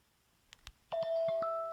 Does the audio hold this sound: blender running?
no